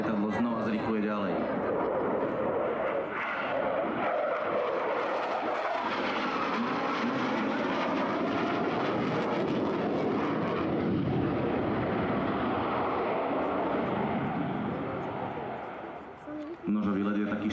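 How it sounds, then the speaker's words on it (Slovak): Polish Air Force MiG-29 jet at an air show roars with its afterburner lit, a loud, dense, continuous thunder that holds for many seconds, then eases near the end, with a voice talking over it. "Krásne je možné vidieť zapínanie prídavného spaľovania."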